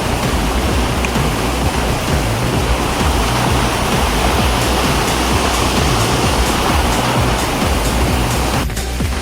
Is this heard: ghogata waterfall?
yes